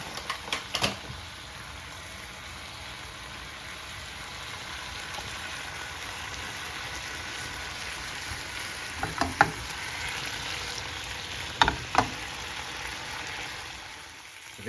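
Rusters quarter pounder burgers with cheese fry and crisp in a home kitchen pan, giving a soft, steady sizzle. A few sharp clicks and taps from handling come through near the end.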